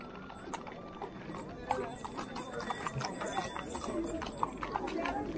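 Horse hooves clip-clop on a road in Shimla, where horse rides are offered to tourists in the cold; steady footfalls sound moderately close beneath continuous crowd chatter and street noise.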